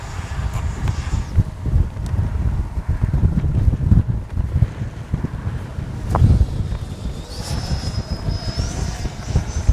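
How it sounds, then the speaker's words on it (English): Gusty wind roars across the microphone at an RC jet flying field, low and rumbling in uneven surges, with a faint whine from a Freewing 90mm F-22 electric ducted-fan model rising briefly near the end. "she's not happy about this wind"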